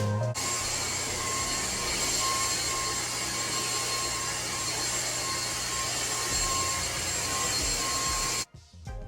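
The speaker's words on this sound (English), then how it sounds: "this works just using the vacuum. This is a Dyson, the Dyson V6 motor head" A Dyson V6 cordless vacuum with its motor head runs over carpet in a nursery, making a loud, steady, close whine and rush that holds without a break before cutting off abruptly near the end.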